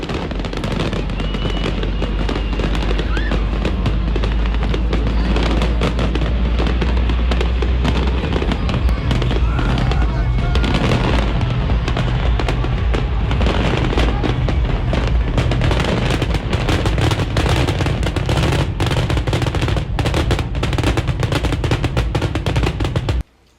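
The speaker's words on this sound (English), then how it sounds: "their fireworks show was going off" A fireworks show at the Electric Daisy Carnival festival, near a Ferris wheel, bursts in a loud, dense barrage of crackles, pops and booms that runs without pause for over twenty seconds.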